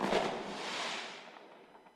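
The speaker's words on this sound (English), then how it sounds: "the night sky across the country will be filled with colours as fireworks come back with a bang" Fireworks burst over a town at night, a broad crackling blast that rolls out and fades over about two seconds, fairly distant and heard alone.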